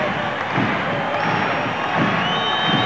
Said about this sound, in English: they'll be on their feet cheering until the Huskies score